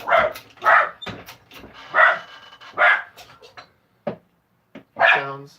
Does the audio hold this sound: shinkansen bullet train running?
no